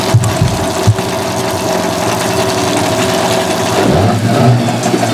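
A Yamaha 15 HP two-stroke outboard motor idles steadily and close up, a droning buzzy engine note with a brief rise in revs near the end, no voices over it.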